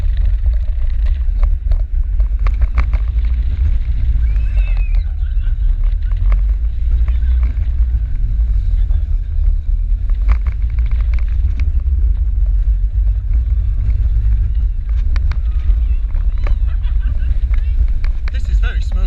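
A front-row ride on Python, a 1981 Vekoma roller coaster at Efteling, heard as a loud, continuous low rumble of the track and a rushing wind buffeting the microphone throughout.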